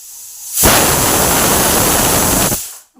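A pressure cooker on a gas stove at high heat lets out a loud steam whistle, a steady roaring hiss that holds for about two seconds and then cuts off.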